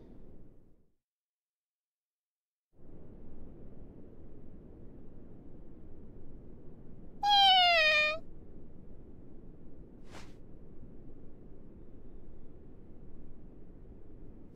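A short cat meow from the video game Megaton Musashi W, heard once mid-clip as a bright, harmonic cry over steady low background noise, with a brief click shortly after.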